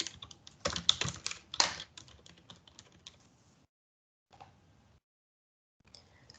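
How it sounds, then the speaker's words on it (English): A search being typed on a computer keyboard: quick, close clicking keystrokes for about three seconds, then a pause and a few scattered key taps, faint and with no voice. "you can just go to this Google custom search and type"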